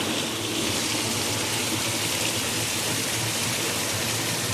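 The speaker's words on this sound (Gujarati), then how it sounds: "આમ ધોધ જ પડે હે, એવો વરસાદ આવે જો." Heavy rain pours down outside an ice cream shop, a dense, loud, unbroken roar of falling water like a torrent, with no voices.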